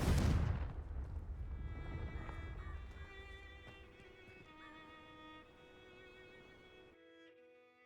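Confringo spell explosion in Hogwarts Legacy: one loud fiery blast up front that fades into a long ringing, chiming magical tail lasting several seconds.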